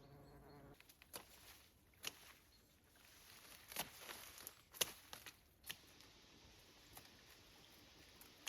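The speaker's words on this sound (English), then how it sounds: "Look, the bees are enjoying it" Bees buzz around dark pink flowers in the countryside, a faint, close hum broken by soft taps and rustles.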